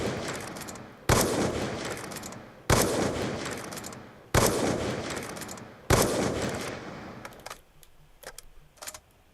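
Four sharp, loud sniper rifle shots fired in rapid succession while quick-scoping in Black Ops 2, each with a long decaying tail, followed by quieter clicks and handling noises as the weapon is reloaded.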